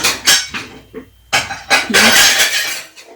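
A stand mixer attachment being picked up and fitted in a home kitchen, with several sharp metallic clinks and clacks, a short squeak and brief rattling, close and fairly loud.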